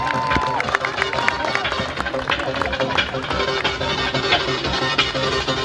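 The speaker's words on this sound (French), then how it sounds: "On les applaudit bien pour les extraits." Spectators cheer and clap at the 23rd International Peace Race, a running event in Trith-Saint-Léger, France: a dense, steady wash of crowd noise and applause with an announcer talking over it throughout.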